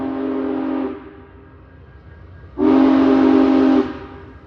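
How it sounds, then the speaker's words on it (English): A train on railway tracks sounds two long, loud horn blasts, the first about a second long and the second longer after a short pause, with low rumble between. "a train came around the corner at nearly 60 miles per hour"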